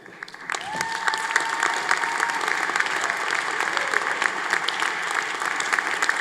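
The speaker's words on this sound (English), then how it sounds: "Let us share another round of applause for this great accomplishment." Audience at a university commencement ceremony breaks into sustained applause, starting abruptly and holding at a steady dense level, with a brief high tone near the start and no talking over it.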